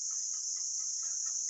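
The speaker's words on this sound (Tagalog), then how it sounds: "May kulungan sila ng manok doon." Chickens in a coop cluck softly in a steady, repeating pattern, close by, over a constant high-pitched insect-like whine.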